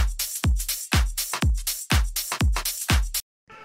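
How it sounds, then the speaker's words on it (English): A chill house drum pattern plays all its drums together, with a deep kick thumping in a steady four-on-the-floor pulse under crisp hats and claps, then a sudden stop and a brief quiet texture. "the next thing that I have here are all the drums, which together sound like this"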